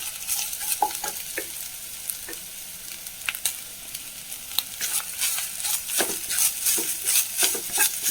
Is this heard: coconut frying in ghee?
yes